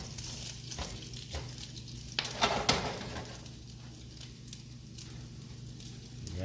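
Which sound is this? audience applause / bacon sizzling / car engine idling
bacon sizzling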